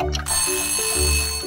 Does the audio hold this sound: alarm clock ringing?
yes